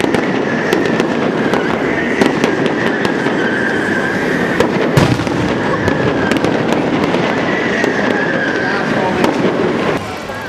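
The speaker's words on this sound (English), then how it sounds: "And China wouldn't be China without some fireworks" Dense, continuous crackling and popping of fireworks exploding over Shanghai at night, loud and sustained throughout with rapid overlapping bangs and a faint background voice.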